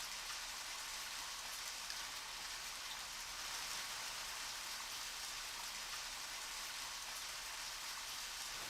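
Steady rain pours over a small patio in the video game Deadly Premonition, a soft, even hiss that holds constant and close throughout, with no voices over it.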